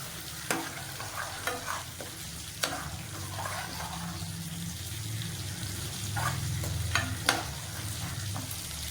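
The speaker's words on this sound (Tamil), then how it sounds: "ஊற்றிட்டு நல்லா கொதிக்கட்டும் இந்த மசாலா." Steady stirring and low sizzling from a pan of masala simmering with added water, with occasional spoon scrapes and clicks, no voices.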